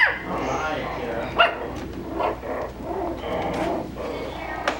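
Coton de Tulear puppies bark and yip in short, high bursts that come and go over continuous background voices and puppy whimpers.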